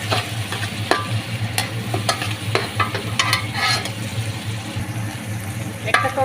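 Ginger garlic paste frying with meat in a pan, a steady sizzle with occasional scraping stir strokes, close and continuous with a low hum underneath.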